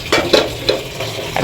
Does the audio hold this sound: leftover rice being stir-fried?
yes